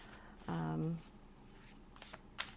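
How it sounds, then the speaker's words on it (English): Tarot cards being shuffled close by, a brief riffling patter near the end after a short hum, quiet and faint overall. "just trying to shuffle these cards"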